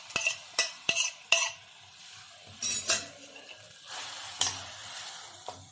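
Ground ginger paste cooks in a kadhai over a low flame, giving a soft sizzle broken by sharp scrapes and clinks of a spoon stirring against the metal pan at close range.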